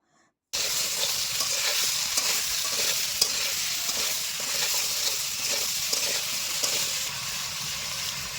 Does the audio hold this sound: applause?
no